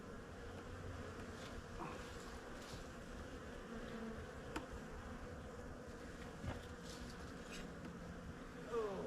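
Honeybees hum in a winter hive, a dense, steady buzz that fills the whole clip at a close, even level with no voices over it.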